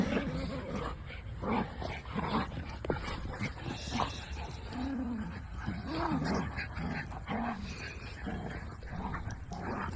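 Several dogs romp in a sand pile, a small dog called Buzzy among them, with scuffling, panting, growls and yips crowding together close up in a busy, continuous tumble.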